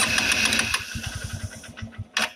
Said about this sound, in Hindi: अब स्टार्ट करना बाइक